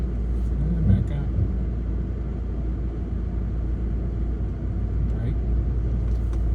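A sports car engine rumbles low and steady at close range as a ten-year-old drives slowly, with a person talking over the continuous deep drone.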